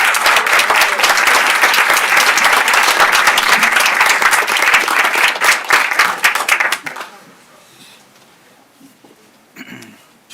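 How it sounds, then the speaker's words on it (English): A crowd at a city commission meeting claps loudly for city employees, dense sustained applause for about seven seconds before it abruptly fades into near quiet. "let's give them one more big party round of applause"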